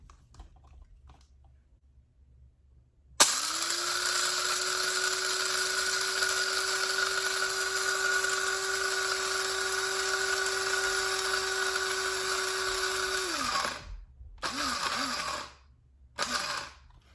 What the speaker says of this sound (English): let's go ahead and grind some beans